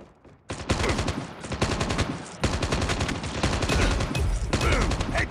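Rapid automatic gunfire from Call of Duty Mobile crackles in loud, dense bursts separated by brief pauses, close and aggressive, with a voice speaking over the shooting.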